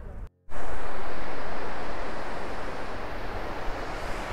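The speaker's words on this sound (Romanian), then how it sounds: "Aici e mai învolburat râul și se desparte în două și formează insulița asta." Turbulent river water rushing in Rome where the stream splits around a small island, a loud steady roar after a brief dropout at the start, broadband and continuous with no voices.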